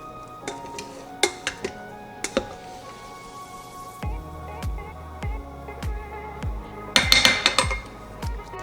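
A utensil stirs cooked purple rice in a pot or container, with scattered light clinks and taps, then a run of knocks and a brief cluster of scraping clinks near the end.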